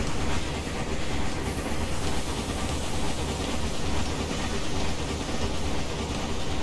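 A train runs along the railway in Railway Empire, giving a dense, continuous, loud rumbling roar with no pauses throughout.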